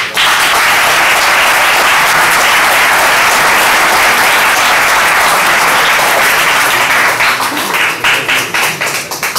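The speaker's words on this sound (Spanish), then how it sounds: "con un fuerte aplauso tiene la palabra el general Piñar." A crowd at a book presentation event applauds loudly and steadily as a general is introduced to speak, the dense clapping filling the room before thinning near the end.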